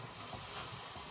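Onion cooking in a pot, heard as a soft, steady hiss of gentle sizzling and steam at low level and without interruption.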